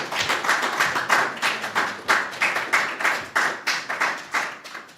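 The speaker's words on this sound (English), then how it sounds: "A warm round of applause as he comes on stage" A small audience at an art exhibition and book launch claps in a fairly even, rapid patter of close hand claps that carries on steadily without any voices.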